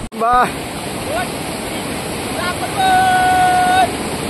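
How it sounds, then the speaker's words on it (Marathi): Kalu waterfall roars as a constant broadband wash of falling water, close and loud, while people's voices and calls break in over it. "काळू वॉटरफॉल असा आहे."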